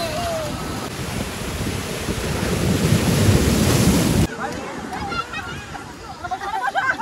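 Ocean waves at Digha beach wash in with a loud, rushing roar and wind buffeting the microphone, then fade to lighter surf with people talking and children's voices nearby.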